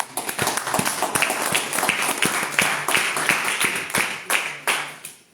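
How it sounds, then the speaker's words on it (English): A crowd at a speaker event applauds with sharp, distinct individual claps standing out over a steady wash of clapping, which thins toward the end. "And one more round of applause, please"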